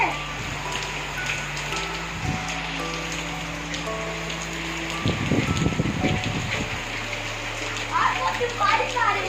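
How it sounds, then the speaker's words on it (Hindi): Heavy rain pours down in Islamabad, a steady dense patter on surfaces throughout, with people talking over it and some tonal background noise. "आज बहुत बारिश आ रही है।"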